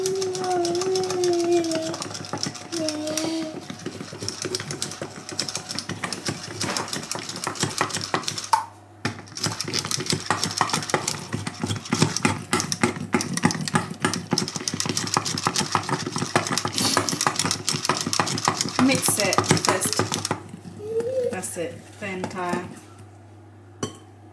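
Cake batter is whisked in a bowl, giving a rapid, steady, close clatter that runs for about twenty seconds with a brief pause. People talk at the start and end.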